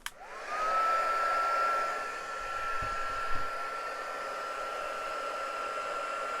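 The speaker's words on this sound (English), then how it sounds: "My hotter heat gun." A hot heat gun for melting embossing powder blows with a steady, close whooshing hiss that whines up at the start and holds evenly throughout, with a couple of faint knocks partway through.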